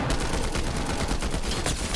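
A combat assault rifle in a video game fires in rapid sustained bursts, a dense, loud crackle of shots that runs the whole stretch with no speech.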